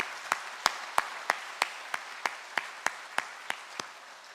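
A church congregation at a Korean Methodist Sunday worship service claps in a steady, even rhythm of about three claps per second, with crisp, moderately loud strikes and no talking.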